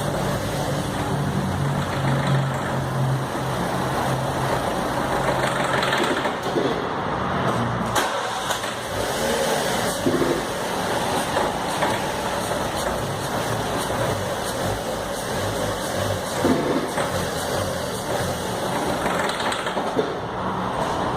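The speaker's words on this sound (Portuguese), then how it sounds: "você ouvir um barulho meio de metal batendo dentro do motor" Gasoline car engine idling with a metallic knocking from fuel detonation, a steady close running drone with rattling taps throughout, no talk.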